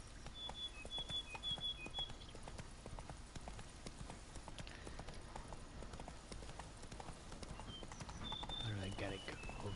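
Horse hooves gallop in a steady clip-clop rhythm in The Witcher video game, running continuously under game music and effects while someone talks over it.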